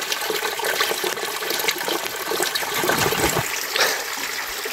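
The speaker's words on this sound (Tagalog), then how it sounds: "At malakas yung daloy ng tubig." Cold spring water gushes in a strong, steady flow at a water catchment built for a rural sitio, a loud continuous splashing rush heard close up with no voices over it.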